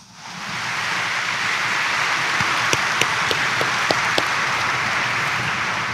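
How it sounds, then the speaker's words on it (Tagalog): Congregation at a morning Mass in Quiapo Church, Manila, claps loudly in a dense, sustained wash of applause, with a few sharper individual claps popping out near the middle. "pumalakpak ng malakas"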